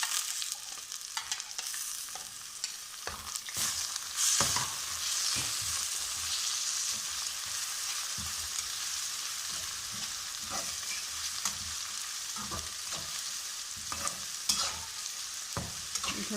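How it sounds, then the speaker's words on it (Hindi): Sliced onions frying in oil with ginger garlic paste added for chicken karahi, a steady close sizzle broken by repeated scrapes and stirs of a spoon in the pan, no talk. "अब इसके अंदर हमने ये अदरक लहसुन का जो पेस्ट है ये हम डालना है।"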